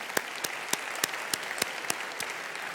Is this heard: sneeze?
no